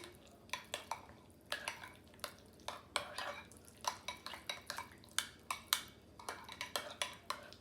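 A spoon stirs and scrapes a thick cream cheese and salsa mixture in a bowl, giving a steady run of close, sharp clinks and scrapes in an uneven rhythm with no talk.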